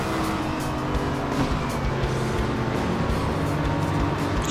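A racing car engine in the Need For Speed: No Limits game roars loudly and steadily throughout, with a constant close motor drone and hints of tire noise.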